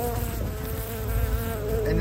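Honeybees swarm around hive frames being shaken into a box, a dense steady buzz filling the air close by and holding unbroken without any talk.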